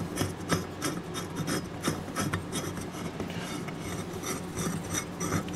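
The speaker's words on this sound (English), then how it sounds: "I was able to loosen this nut by hand" A nut is turned by hand on the threaded metal pipe of a traffic light top mount, producing a close, steady rasping scrape with rhythmic gritty pulses as it twists loose, and no voices.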